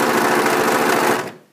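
A sewing machine stitches a seam on a pair of shorts in one fast, rattling run that stops sharply at the end, close and loud.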